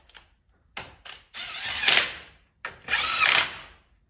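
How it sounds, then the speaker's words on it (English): An impact wrench with a 17mm socket cranks down plate bolts on a Kubota SVL75-2 track loader, heard as several close, loud whirring and hammering bursts, two short and two longer, with brief gaps between. "hand thread them in, then crank them down with the impact"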